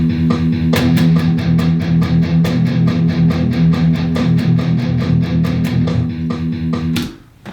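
Palm-muted metal guitar riff played with steady down-picked strokes, a rapid, even chug of heavy distorted hits that rings out and stops near the end.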